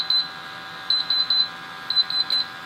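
A Q-Ray 2 gas detector sounds its alarm during a bump test. Its sensors give high, piercing electronic beeps in irregular short bursts, some single and some in quick pairs or triplets, loud and close with no talk over them.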